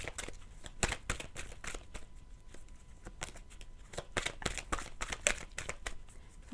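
Tarot cards are shuffled by hand close by, with steady riffling and slapping bursts repeating throughout.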